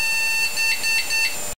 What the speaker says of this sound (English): one of the ways they can get alerted is through beeps